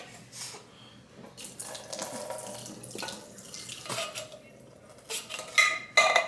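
Kitchen sink with canned petite diced tomatoes being drained, giving a running water splash and clinking of cans and utensils against the basin, in irregular bursts at close range with no talk.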